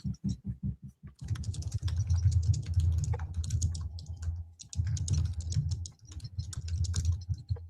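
Fast typing on a computer keyboard, close and crisp, opening with several separate heavy keystrokes and then running into dense bursts of clicking broken by short pauses.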